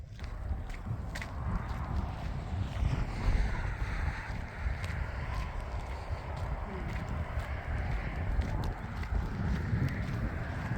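Steady wind blows across a roadside viewpoint amid vineyards on a cold day, a continuous low rumbling rush buffeting the microphone with no pauses.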